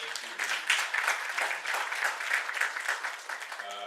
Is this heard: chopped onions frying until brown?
no